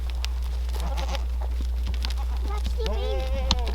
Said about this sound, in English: And we got a lot of goats.